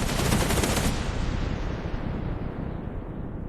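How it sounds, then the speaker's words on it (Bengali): Animated gunfire effect: a rapid, dense burst of shots that ends abruptly, then a long rumbling echo that fades out with no voices. "রাত ৩টের পর গুলির শব্দ।"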